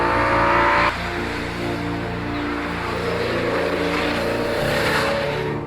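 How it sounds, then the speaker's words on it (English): The 5-litre S85 V10 of a BMW E60 M5 revs hard and close, its high engine note swelling and holding with a brief dip partway through, heard alone without talk. "following up with the S85 5 litre V10 found in the E60 Generation M5"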